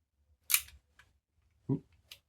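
A Brownie Hawkeye Flash box camera's shutter fires in two sharp, close mechanical clicks about a second apart, each followed by a faint tick, in a quiet room.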